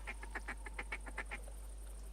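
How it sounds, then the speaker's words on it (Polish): Ducks in the hunting video game theHunter Primal quack in a quick run of about ten sharp, evenly spaced calls over roughly a second and a half, moderately near, then fall quiet under a steady low hum. "już widzę, że i tu kaczki nad głową latają"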